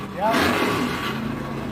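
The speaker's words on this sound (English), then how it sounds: "you can hear any kind of car you want" A car engine revs at the Big Boyz Toyz car show at the Isle of Capri in Biloxi: a loud, sustained roar that swells early, under a person talking.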